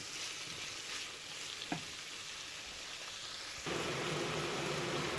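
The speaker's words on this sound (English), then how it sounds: "we just fry that down till it's basically till the onions are a little bit more transparent" Onions and bacon fry in a pan for liver and bacon, a steady broadband hiss like light rain that swells louder partway through, with one small knock and no talking.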